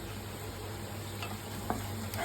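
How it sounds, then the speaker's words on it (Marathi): Crushed ginger and garlic frying in a pan for a village-style country chicken curry, a low steady sizzle with a faint stirring scrape, close and quiet, no voices. "जरा अद्रक लसूण शिजवतो"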